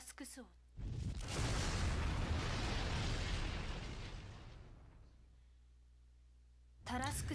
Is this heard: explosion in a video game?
yes